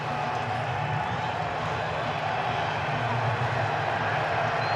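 Nebraska football stadium crowd hoping for a defensive stand against Indiana: a steady, loud, wide wash of roaring and cheering voices that holds at full level throughout, with no single voice standing out.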